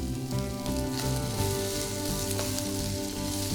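Mutton for a curry leaf mutton fry sizzles in oil with a soft, even hiss, a steady tonal hum running underneath throughout.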